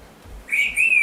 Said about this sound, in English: You quit whistling at me.